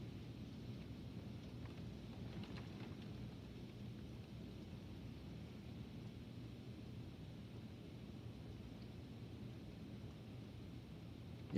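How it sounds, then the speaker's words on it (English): Steady wind and rain noise from a morning lightning storm, a constant broadband roar with gusty low rumble throughout and no distinct thunderclaps, ending in a brief louder bump. "Yeah, this is a lightning storm right here now."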